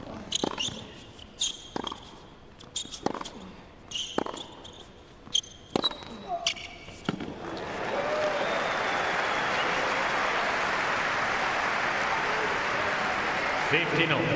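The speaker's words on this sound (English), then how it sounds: "The oohs and ahs from the crowd." At the Nitto ATP Finals 2019, the Djokovic–Thiem tennis crowd applauds after a massive forehand winner: a few sharp ball strikes and court sounds first, then a loud, sustained wash of clapping from a large indoor audience.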